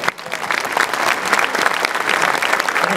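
Applause from the audience at the finale of the Taptoe Bergen op Zoom 2024 tattoo event, a dense, loud, sustained clapping from a large crowd, continuing throughout with no break.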